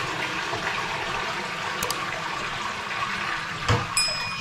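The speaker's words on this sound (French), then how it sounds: "Donc c'est parti, on envoie de l'eau." A toilet flushes while being unclogged with a plunger, giving a steady, close rush of running water throughout, with a brief dull thump near the end.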